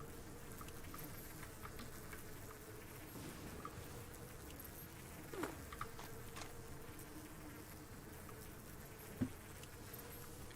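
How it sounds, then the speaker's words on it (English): Bees from the game Fallout 76 buzz in a constant, faint, swarming drone that never lets up, joined by a couple of soft clicks. "Enough with the bees."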